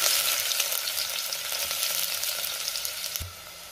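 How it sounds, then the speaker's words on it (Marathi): Onion frying in hot oil in a pot for mutton rassa: a steady, close hiss of sizzling with a few soft clicks and a low thump near the end. "तेल गरम झालंय, यामध्ये आता मी कांदा घालते"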